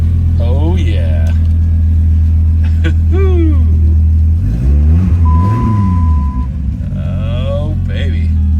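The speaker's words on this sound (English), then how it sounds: "Let's fire this bad boy up, see how it sounds." A Dodge Viper V10 engine starts and idles with a deep, steady rumble, then revs up and settles back. People talk over it now and then.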